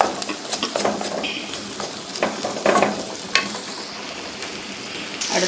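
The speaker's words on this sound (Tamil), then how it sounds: "ஒரே மாதிரி வதக்குங்க." Onions sautéing in a pan for a cauliflower and peas kurma, a steady close sizzle broken by scraping, clattering stirs that bring the pieces from the edge into the middle.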